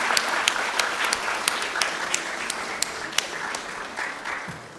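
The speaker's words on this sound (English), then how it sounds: "A round of applause." Applause from a crowd at a university math fair, greeting the second-place math quiz winners. Dense, steady clapping runs through the whole stretch, with a few sharper individual claps standing out.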